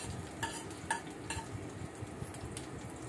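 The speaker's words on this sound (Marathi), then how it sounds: "मिरची छान परतून घ्यायची आहे" Green chilies stir-fried in a pan for sabudana khichdi, a soft steady sizzle with a few light scraping stirs of a spatula against the pan, close and quiet.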